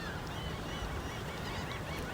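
Seagulls call near a parked truck, a continuous flurry of overlapping cries and honking squawks from many birds, fairly close and busy throughout.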